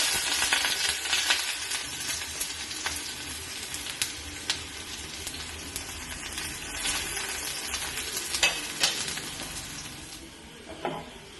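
Chopped onions sizzle steadily in coconut oil for a Kerala fish and mango curry, a dense, bright frying hiss running throughout with small crackles and spatters, close and fairly loud, fading slightly near the end.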